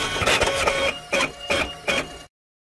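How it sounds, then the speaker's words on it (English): A desktop printer runs with a mechanical whir and clatter, with three short bursts of print-head movement at a steady rhythm, close and alone without any voices, before stopping abruptly. "Printer."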